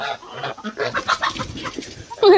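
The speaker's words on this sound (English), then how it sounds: "Yeah, we still got plenty of roosters." Chickens and roosters in a farm flock raised for a 4-H project cluck and squawk in overlapping bursts close by, ending with a louder, sustained call.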